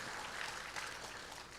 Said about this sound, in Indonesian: Kita berikan tepuk tangan sekali lagi buat Tuhan kita.